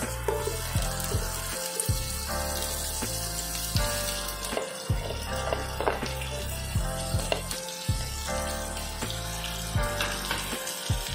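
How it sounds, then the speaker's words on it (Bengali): Chopped onion with garlic and ginger frying in a pan over medium flame, a steady close sizzle broken by repeated scraping and stirring strokes, with a backing music track running throughout. "পেঁয়াজটা দিয়ে কিন্তু মিডিয়াম ফ্লেমে আমি আরও 5 থেকে 10 মিনিট হালকা ভেজে নেব"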